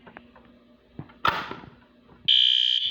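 A building fire alarm goes off during a test. A steady, piercing electronic tone starts abruptly near the end, after scattered knocks and a brief whooshing burst, with no talking.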